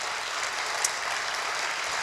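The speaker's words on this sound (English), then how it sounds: "You can give them a round of applause." Audience applause at the John K. and Luise V. Hanson Legacy Award ceremony, a steady even wash of clapping from a hall crowd, moderately loud and continuous, with no talk over it.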